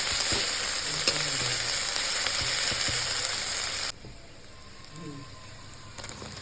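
Ginger-garlic paste fries in a pan while being stirred, giving a loud, steady close-up sizzle that suddenly drops to a quieter hiss partway through, with a few spatula scrapes.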